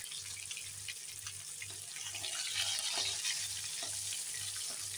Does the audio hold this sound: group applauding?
no